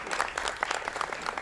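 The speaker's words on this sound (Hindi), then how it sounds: "मैं चाहूँगा कि एक ताली हो जाए" Applause for the director of a Hindi theatre play, a hall audience clapping briskly and steadily throughout, fairly close and loud.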